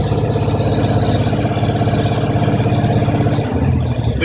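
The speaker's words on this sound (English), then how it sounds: "I'm going to give some gas and accelerate for about 3 seconds" Truck engine running steadily and loudly during an air brake test, its low rumble holding constant before dipping in pitch near the end, with a high whine audible above it.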